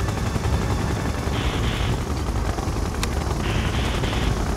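Gunfire during a base attack in Red Alert 2, a dense noisy rattle of rapid shots with a sharp crack near the middle and brief beeping tones, continuous and mid-distance.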